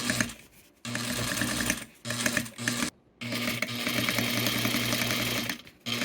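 A sewing machine runs double top stitching on Barbie pants, a close, loud, steady mechanical whir with a fast rhythmic chatter, stopping briefly several times between runs.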